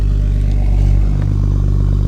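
On a Nissan R33 Skyline, a loose exhaust rattles and buzzes beneath a steady idling engine hum, the metallic clatter coming close and continuous for a couple of seconds.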